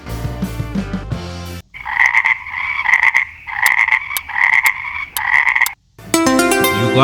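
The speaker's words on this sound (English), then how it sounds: "The frog croaks to attract mates to communicate." A frog croaks in a steady run of loud, close, buzzing pulses, framed by music before and after.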